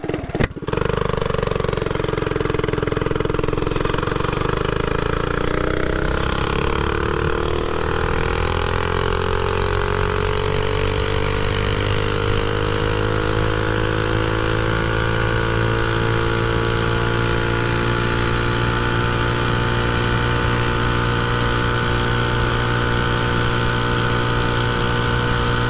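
A mini bike with a stock engine, stock rod and stock cam runs at speed on a riverbed. Its loud, steady engine drone rises in pitch as it pulls, then holds a high, sustained whine.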